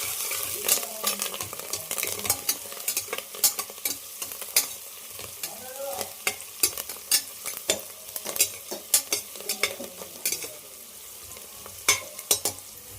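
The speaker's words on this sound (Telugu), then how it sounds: "మొత్తం బాగా ఫ్రాంట్ వరకు ఫ్రై చేసుకోవాలి." Onion, green chilli and curry leaves fry in a pan for tomato rice while a spoon stirs them, giving close, continuous sizzling broken by frequent sharp scraping strokes, with no talk.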